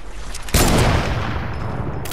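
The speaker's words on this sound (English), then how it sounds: "Oh, dang, he just got sniped." A single loud sniper shot in a video game cracks sharply, then a long rumbling tail decays over the next second and a half, with no voices.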